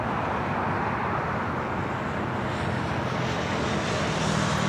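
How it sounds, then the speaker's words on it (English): A China Eastern Boeing 777-300ER taxiing at Los Angeles International Airport, a steady, loud broadband jet engine rumble and whine that holds constant throughout, with faint background traffic and no talk. "China Eastern, the 777-300ER, starting the taxi."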